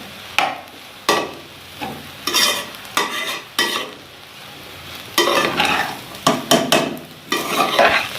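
Chinese fried rice with chili sauce and vinegar stirred in a pan, giving loud, close bursts of scraping and sizzling in uneven strokes with brief pauses between them.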